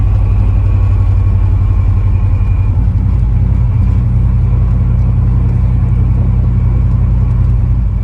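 A 1989 Chevy OBS pickup with no muffler drives along, its open exhaust a loud, steady low rumble that holds close and constant throughout, with no voices over it.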